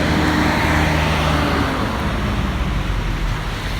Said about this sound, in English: there's a truck coming